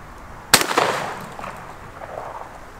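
A single loud Remington 870 12 gauge shotgun blast fired outdoors at a clay target box, a sharp crack with a short decaying echo and no other sound after it.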